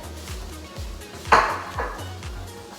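A cooking pot being moved onto the stove while making carne con chile with beans, a single clear metallic clank and scrape rising over a steady rhythmic background beat, close and fairly quiet.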